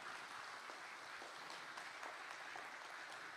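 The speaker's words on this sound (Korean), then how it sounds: "멋진 공연을 보여준 학생들에게 다시 한번 큰 박수 부탁드리겠습니다" Applause for student performers at a high school's 100th anniversary ceremony, a steady, dense wash of clapping from a modest audience that holds evenly throughout without voices.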